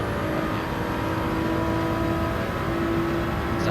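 A Gr3 Toyota Supra race car at Road Atlanta in Gran Turismo 7 holds a loud, steady engine drone with a sustained tone throughout, no voices over it.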